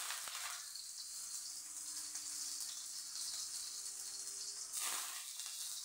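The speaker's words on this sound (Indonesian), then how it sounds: "terongnya saya tumis bikin sayur ya" Eggplant stir-frying in a pan, a steady bright sizzle hissing continuously for several seconds with a brief louder flare near the end, close and fairly quiet, with no talking.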